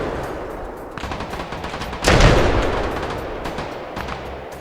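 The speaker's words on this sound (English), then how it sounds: "Shots fired on the ground level. Shots fired even on the upper part." Firefight in the shooter game Stalker Reforged, with rapid loud bursts of automatic gunfire and a heavy blast swelling into rolling echo midway, dense and continuous.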